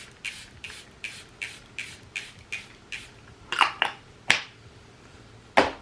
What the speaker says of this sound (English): setting spray, Charlotte Tilbury.